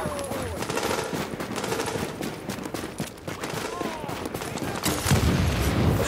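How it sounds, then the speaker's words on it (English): Dense, continuous gunfire pours onto a fortification in a team shooter game, a rattling wash of overlapping shots and impacts with a louder swell toward the end, while a voice speaks underneath. "Fortification is now taking fire."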